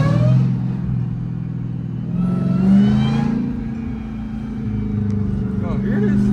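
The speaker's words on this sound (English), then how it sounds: "This car is too loud, bro." A 1000 hp Dodge Demon Charger running with no hood roars loudly and close, its deep engine note swelling in revs with a harmonic whine while someone talks excitedly over it.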